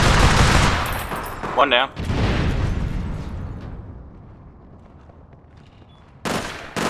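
Gunfire and explosive bursts in APB Reloaded, heavy and loud at first, then fading into a rumbling tail. A voice speaks briefly between the shots, and more loud bursts come near the end.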